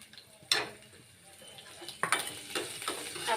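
For samosas, food is lightly browned in a pan with a gentle sizzle, broken by a few sharp clinks and scrapes of a utensil stirring against the metal.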